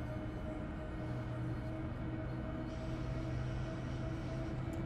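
A class 111 locomotive hauling a regional train rolls past in Train Sim World 4, a steady low rumble and droning hum of the train, even and sustained, with no voices.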